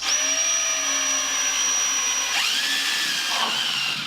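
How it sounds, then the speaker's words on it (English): A high-pitched power drill whines steadily up close, drilling a 1/16 inch hole, its pitch dipping briefly as the bit bites in before spinning back up. "Now I'm just going to drill a 1/16 inch hole"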